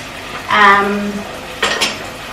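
Onions and garlic frying in a pan sizzle softly and close, with a couple of short clinks of a utensil against the metal.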